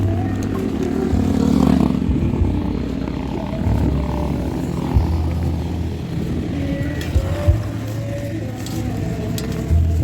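Busy road traffic with many motorcycles at night, engines rumbling and passing vehicles, a steady low roar with occasional louder bumps and distant horn-like tones.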